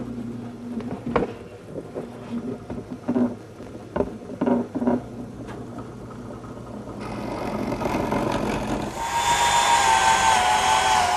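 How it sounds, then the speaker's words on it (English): Short bursts of a power drill whir on and off several times, boring holes in the corners of a wooden tray frame for carriage bolts, then a louder, steadier high-pitched drilling hum builds toward the end. "These holes that I drill in the corners of the tray frame for the carriage bolts"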